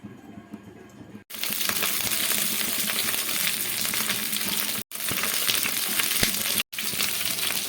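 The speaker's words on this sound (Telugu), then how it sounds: "ఇలా స్టఫ్ చేసుకున్న క్యాప్సికమ్ను ప్యాన్ పెట్టి ఆయిల్ వేడి చేసుకొని అందులో వేసి మగ్గించుకుందామండి" Stuffed capsicum frying in hot oil in a pan sizzles loudly and continuously, the crackling cut briefly by a few sharp gaps after a quieter opening second.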